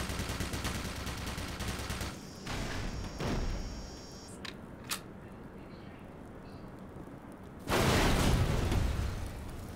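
Gunfire and a grenade blast in the video game Black Mesa, bursts of rapid shots and a heavy boom, loud and sharp, with quieter gaps between them.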